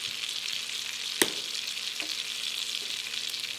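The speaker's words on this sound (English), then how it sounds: "now we're flipping the steak back again" Beef tenderloin steak frying in butter in a pan, with garlic pepper and garlic rub, gives a steady close sizzle throughout, with a sharp clink at about a second in and a softer knock later.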